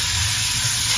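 Raw banana masala curry sizzles loudly and continuously in a pan while being mixed, a dense, unbroken frying hiss with no speech.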